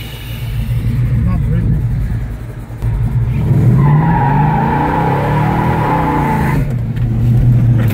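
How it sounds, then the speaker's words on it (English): A 1968 Dodge Charger doing a burnout, its engine roaring steadily while the tires squeal in a long rising and falling screech, loud and close, with voices briefly over it. "It's the first time you've ever done a little burnout"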